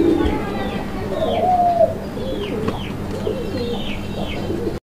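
Pigeons of large, Madrasi gola, raj gola and local breeds cooing while being handled, low throaty coos close by with a few higher chirps and soft rustling, under occasional talk.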